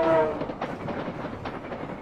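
A train rumbling through a tunnel as an audio drama effect, a steady low roar with faint rhythmic clatter, heard alone at moderate loudness.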